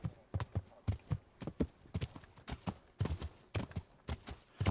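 Horse hooves clip-clopping in the medieval game Kingdom Come Deliverance, a steady run of close, crisp hoofbeats in an even walking rhythm with no talk.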